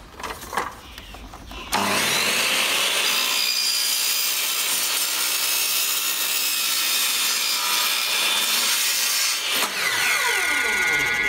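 A saw cuts through a bicycle tube so it fits into a wheel, giving a steady, loud, continuous rasping that runs for about eight seconds after brief handling noises, then stops and is followed by a metallic ring.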